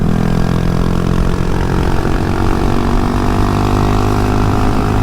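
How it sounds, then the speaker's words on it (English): A 2022 Honda Monkey with an aftermarket Termignoni exhaust runs steadily with a loud, continuous engine drone that does not let up. "the good thing about having the exhaust on now is people can hear you coming"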